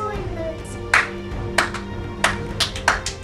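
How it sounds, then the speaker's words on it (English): Hand claps in a rhythmic pattern during a classroom arts-in-reading lesson: four sharp, distinct claps spaced about two-thirds of a second apart, close and clear over a quiet room. "So if I clap like this"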